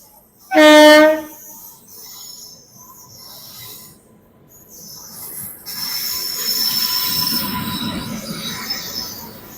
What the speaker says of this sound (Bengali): ট্রেন ঢুকে গিয়েছে, আমার ট্রেন।